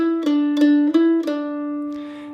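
Four bright plucked mandolin notes in 6/8 time ring out close and clear at a lilting pace, followed by a brief soft rustle.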